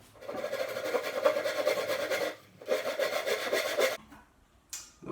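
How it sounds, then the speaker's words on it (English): Back-and-forth strokes of a handsaw cutting through timber for a wooden skate shelf, two sustained bursts of steady rasping close by, then a pause and a brief faint scrape at the end. "But I'm just going to use good old school, the handsaw."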